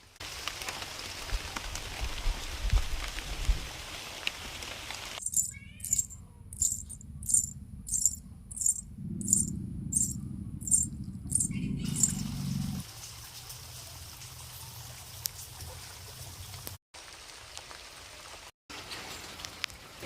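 Steady rain falls through the night in a rural tribal village, a continuous soft patter with a stretch of rhythmic tapping drops and brief gaps, heard without any talking.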